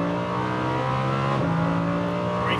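Lamborghini Huracan with its V10 engine accelerating hard on the track at Las Vegas Motor Speedway, a loud close engine drone climbing steadily in pitch with a brief shift-like dip midway, no voices.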